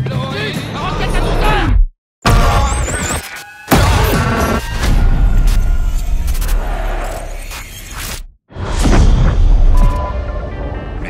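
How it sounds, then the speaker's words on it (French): Gunfire and heavy booms from a Call of Duty Black Ops Cold War trailer, loud and dense, with bursts of shots and impacts broken by brief silent cuts, and speech mixed in throughout. "Attention, on essuie les tirs!"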